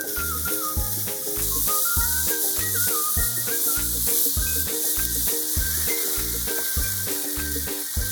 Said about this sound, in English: Next, stir fry beef and pork minced.